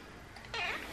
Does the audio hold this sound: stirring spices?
no